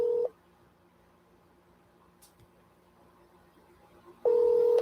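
Two steady telephone tones from an outgoing cold call, one brief burst at the start and another near the end, separated by a quiet line hiss with no talk.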